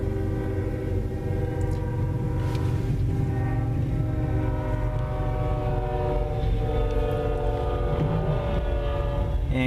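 CN freight train led by C44-9WL locomotives rolls past in falling snow near Ladysmith, a loud steady rumble of engines and wheels with long sustained horn tones layered throughout.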